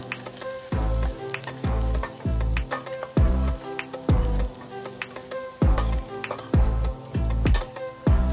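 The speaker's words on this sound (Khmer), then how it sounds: "យើងធ្វើការឆាខ្ទឹមសរហូតទាល់តែក្រហមល្អ" Minced garlic sizzles and crackles as it is stir-fried in hot oil in a wok, with repeated scraping strokes of a spatula in a steady rhythm, close and loud.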